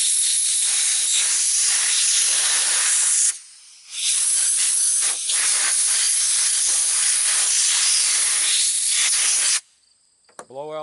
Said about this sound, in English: Now the next step, I take my compressed air.